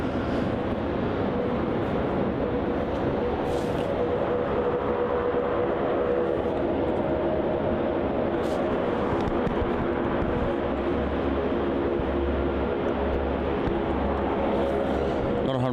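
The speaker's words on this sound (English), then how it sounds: "Just pulled out of Terminal 3 and making its way also up to runway 34 will be ZL18, the Regional Express 737" A Regional Express Boeing 737 jet taxis toward the runway at an airport, a distant, steady engine whine and rumble holding constant throughout.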